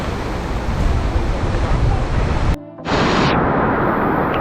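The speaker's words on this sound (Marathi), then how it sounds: "हे बघा पाणी, हे पहिल्यांदाच बघतोय मी हे सगळं, याच्या आधी कधीच नाही. आणि हा बघा, हा एक छोटासा वॉटरफॉल आहे." A small waterfall and flowing water on the Harishchandragad monsoon trek in Maharashtra, a loud continuous rush with heavy wind buffeting and a brief dropout midway, no voices.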